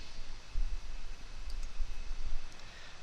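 Computer mouse clicks on an OK button while setting up a restitch in pattern software, a few faint soft clicks over a low background hum, no talking.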